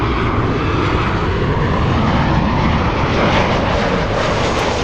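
A special-livery airliner at Los Angeles International produces a loud, close, sustained engine roar that stays steady throughout, with no voices.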